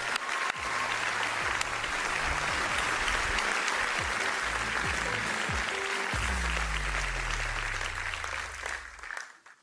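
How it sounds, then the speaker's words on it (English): An audience at BMW's CES 2023 keynote applauds in a dense, steady wave of clapping that holds for several seconds before fading out near the end. "You deserve a big applause."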